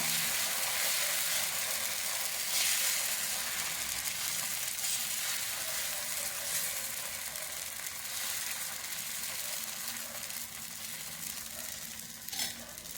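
Dosa batter of drumstick leaves and millet sizzles on a hot griddle, a steady close crackling hiss that holds evenly throughout with no voices over it.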